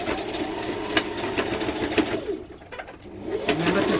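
A sewing machine stitches a wrap dress neckline from one neck point to the other, a steady close whir with small clicks and short breaks as the fabric is guided.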